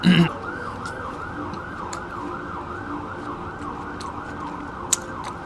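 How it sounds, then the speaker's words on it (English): A wailing siren rises and falls steadily throughout, carrying over a constant low rumble of traffic, with a brief louder burst at the very start. "I don't know if that siren is being picked up by the microphone."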